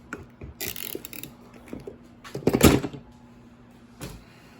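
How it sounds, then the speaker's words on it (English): A 1/2 inch flex head ratchet is handled among hand tools, giving a few light knocks and mechanical clicks and one louder metallic clatter near the middle, close by with no talk. "I just got this one 1/2 inch flex head ratchet."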